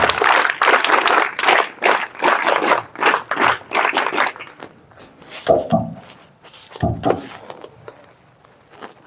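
Schoolchildren clap their hands in unison at a school program, a run of sharp, rhythmic group claps that stops partway, followed by a few scattered single claps and quiet shuffling.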